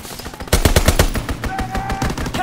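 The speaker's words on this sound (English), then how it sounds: "Strafing run inbound." In Call of Duty WWII, a strafing run rips through as rapid bursts of machine-gun fire after a short quiet lead-in, loud and dense, with crackling shots layered over continuing battle noise.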